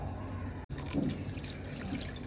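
Water splashes and trickles into a pot at close range, about five glasses for a jaggery coffee, briefly cut off by a short gap before the pouring resumes.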